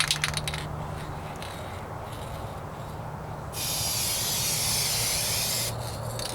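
Dupli-Color aerosol spray paint in red sprayed as a second coat along the passenger-side rocker panel of a 1998 Ford Ranger, a steady close hiss lasting a couple of seconds after quiet shuffling handling noise.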